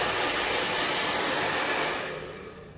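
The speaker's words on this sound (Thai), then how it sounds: "ถ้ามันเปียกอยู่หน่อยแล้วก็เป่า เป่าแห้งแล้วเราก็หยุด" A hair dryer blows steadily on damp hair at a salon before straightening, a loud, close, continuous rushing whoosh that fades out in the last second.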